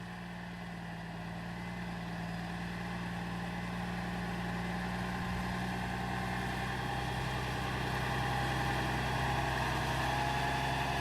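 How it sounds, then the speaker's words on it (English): Kenworth 650 road train with a Cummins engine pulling onto an outback road, a steady low diesel drone with a sustained hum that builds slightly in loudness. "The truck swings onto the road to Burketown."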